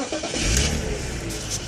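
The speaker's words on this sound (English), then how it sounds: "switch the car on." A BMW car engine, switched on in neutral, idles and revs steadily up close, a continuous loud mechanical drone with no pause.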